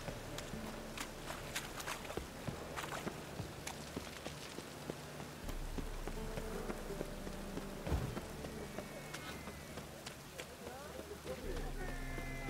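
Rain falls steadily in the video game The Witcher 3: Wild Hunt, an even background hiss mixed with footsteps and game sounds, with someone talking over it.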